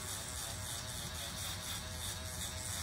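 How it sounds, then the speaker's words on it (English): A foil shaver buzzes steadily during a skin fade haircut, giving a faint, continuous electric whir close by, with no talk. "So now I come back with my foil shaver"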